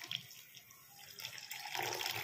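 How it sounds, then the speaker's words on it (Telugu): Water poured into wheat semolina for dosa batter made with ground urad dal, a close, steady splashing pour that grows fuller toward the end. "గోధుమ నూక వాటర్ పోసి బాగా కలుపుకోవాలి"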